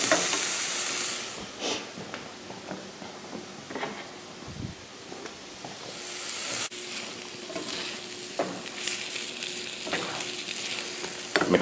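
An artichoke and chickpea scramble sizzles softly in a pan while being stirred, with scraping strokes and clinks of the utensil over a steady fry.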